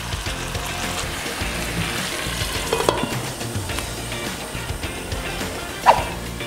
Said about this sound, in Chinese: 等下翻炒一下，那加一点水